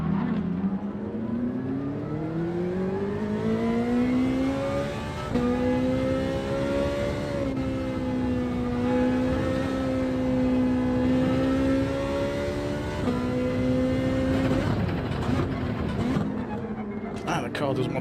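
A race car's engine in Gran Turismo 7 at Laguna Seca whines loud and sustained, its pitch rising and dropping with each gear change over eighteen seconds, with a voice talking over it.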